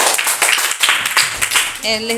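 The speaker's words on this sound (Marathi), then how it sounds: "बरोबर टाळ्या" Schoolchildren in a sixth-grade class at a village primary school clap together in a classroom. The short, loud bursts of hand claps sit close, with voices heard around them.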